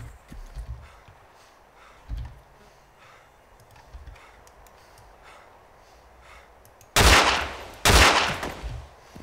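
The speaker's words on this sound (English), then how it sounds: "is that you shooting?" Gunfire in the ARMA 2 DayZ Mod, Breaking Point, near a town fire station: faint distant shots and footsteps at first, then two loud close bursts of rifle fire late in the clip.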